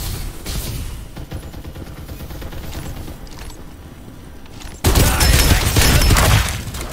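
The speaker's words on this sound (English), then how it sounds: "Firing will commence shortly." Rapid automatic gunfire rattles in the video game Farlight 84, a sustained burst of shots followed by a sudden louder, denser volley near the end.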